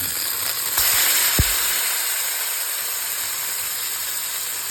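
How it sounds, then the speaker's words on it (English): A ribeye steak sears in browning butter in a hot cast iron pan, giving a steady, close hiss and sizzle that swells right after the meat drops in and then holds evenly throughout. "It's a good time to throw your steak in there."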